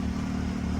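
The engine of a 2022 Can-Am X3 XRS Turbo RR idles just after its first start, giving a brief, fairly quiet, steady low hum.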